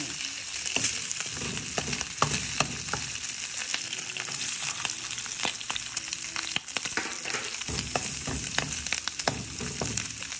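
Meat frying in cooking oil in a pan for adobong sitaw, a Filipino string bean adobo. A loud, steady sizzle runs throughout, with frequent sharp crackles and pops.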